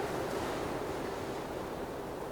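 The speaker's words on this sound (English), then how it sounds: "I like the wind, by the way." A constant wash of wind and ocean surf in a video game landscape, steady and airy, with no voices or other sounds over it.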